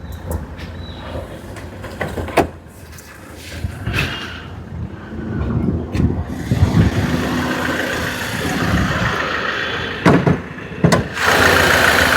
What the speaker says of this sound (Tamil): இப்போ இன்ஜின் ஸ்டார்ட் பண்ணி ஸ்டிக்கில் புகை அடிக்குது ஆயில் அடிக்குது அதை காட்டுறேன் பாருங்கள்